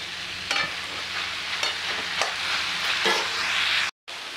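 Eggplant, peas, fenugreek and spring onions sizzle steadily in a pan, with a spoon stirring through several times and brief scraping strokes, then a momentary dropout near the end.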